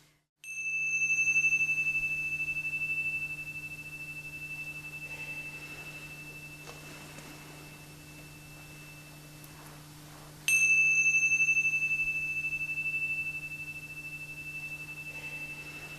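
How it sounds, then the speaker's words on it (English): A guardian's bell at a circle gathering struck twice, each bright ring loud at first and then fading slowly into a quiet room, the second strike landing about ten seconds after the first. "the guardian always rings the bell twice"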